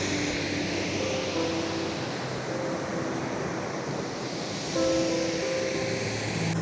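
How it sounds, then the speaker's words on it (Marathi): Rushing water from a waterfall and river on the Konkan coast, a loud, unbroken broadband roar that swells slightly toward the end, with no voices. "धबधब्याचा एवढा आवाज आहे की आमच्या घरापर्यंत आवाज येतो"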